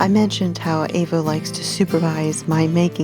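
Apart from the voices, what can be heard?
No everyday noise stands out behind the speech.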